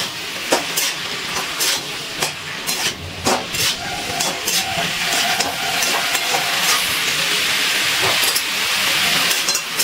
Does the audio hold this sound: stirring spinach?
yes